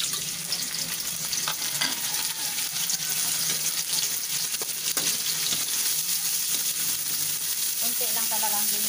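Pork sizzling and frying in a pan for pancit bihon, a steady close-up hiss with scraping stirs throughout and no talk.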